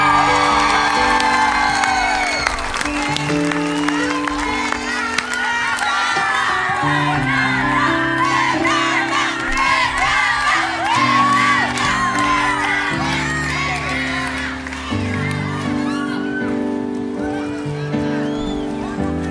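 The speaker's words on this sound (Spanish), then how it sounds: "Y otro enorme aplauso para ustedes por estar aquí esta noche." A large concert crowd cheers and whoops continuously over loud music, with shouts rising and falling throughout.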